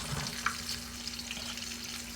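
Bacon frying in a pan on a stovetop, a steady, fairly quiet sizzle with a couple of faint clicks and no voices.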